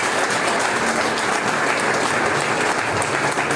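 A church congregation applauds steadily, a dense, continuous wash of clapping that holds at even loudness from start to finish.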